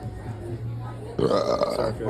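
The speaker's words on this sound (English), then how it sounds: "Sorry for burping." A close, throaty burp lasting about a second, with some low voice sound around it.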